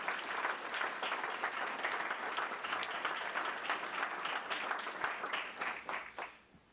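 Applause from an audience at a Catholic youth convention after students are received into the Church: dense, sustained clapping that holds steady, then fades out over the last second.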